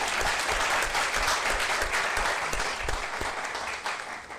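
Applause from a church congregation at a monthly thanksgiving service in Vila da Penha, Rio de Janeiro, steady dense clapping filling the room throughout, fairly loud and with no talking over it.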